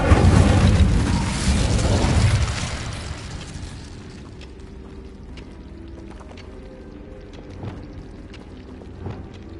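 A fire spell cast in the Hogwarts Legacy video game bursts out in a loud, roaring whoosh for about two seconds, then fades into a quieter crackling rumble with scattered small pops.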